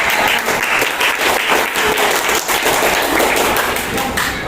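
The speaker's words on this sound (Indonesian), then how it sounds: "berikan tepuk tangan kalau buat kelompok" Classroom applause for a student group called to the front during a lesson, dense steady clapping from the class lasting several seconds, close and loud with no talk over it.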